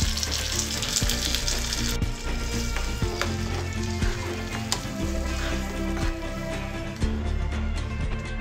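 Tomato paste hits a pan of softened fried onions and sizzles steadily and loudly, a continuous close frying hiss with a little stirring, layered over a tonal background.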